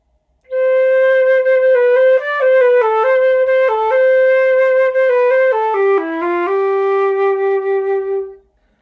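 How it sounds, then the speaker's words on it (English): A flute plays a lyrical low-register solo melody, close and loud, with smooth connected notes and a long final held tone, heard alone. "Sometimes the flute plays kind of lower notes, and it gets to play nice solos that sound like this."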